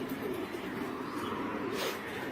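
Racing pigeons coo in a cluttered loft, a steady soft murmur of low throaty calls from several birds layered over one another, continuous and close throughout.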